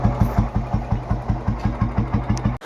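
Restored 1987 Royal Enfield Bullet motorcycle idles close by with its slow, even thump-thump beat, steady and regular before cutting off abruptly.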